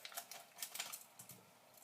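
An MRE Southwestern-style chicken meal heating in its flameless ration heater gives off a faint, quick run of crackling, ticking pops, close by but quiet, for about two seconds.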